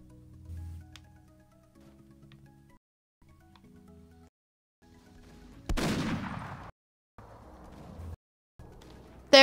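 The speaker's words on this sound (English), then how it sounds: "Hear gunshots." A burst of loud gunfire in the Roblox game Gun Factory erupts midway over faint game audio and cuts out abruptly, followed by brief noisy bursts and a sharp final crack.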